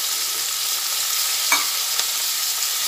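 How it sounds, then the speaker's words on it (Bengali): Chopped onion and garlic fry in oil in a wok, giving a steady, moderate sizzle throughout with a brief clack of stirring partway through and no talking. "তেলের মধ্যে দিয়ে এটা একটু ভেজে নেব"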